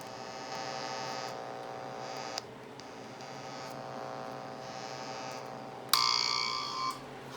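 A faint, steady low 60 hertz hum comes from an ECI Model 40600 function generator, with a brighter buzzing tone cutting in briefly near the end.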